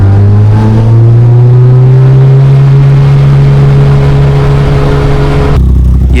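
An old Skoda 130 RS race car drives a lap on a track, its engine droning loud and close with a steady rising tone, then shifting abruptly to a lower pitch near the end.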